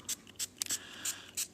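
Spray bottle misting watercolor paint: several short, bright hissing bursts in an irregular rhythm, close and moderately quiet, with no talking.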